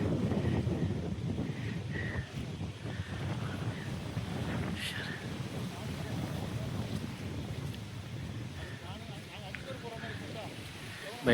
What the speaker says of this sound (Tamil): காற்று சரியான காற்று வீசுது.